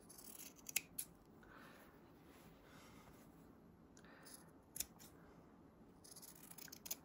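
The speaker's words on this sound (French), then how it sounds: "Je coupe tout le long sans couper" Fabric scissors snip while men's boxers are sewn: a few sharp isolated cuts and short clusters of snips, faint and close against a quiet room, no talking.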